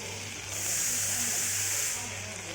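Chopped onions, tomato and three chillies sauté in oil for chilli parotta, a steady broad sizzle that swells louder for a moment and then eases back, heard close with no clear talk.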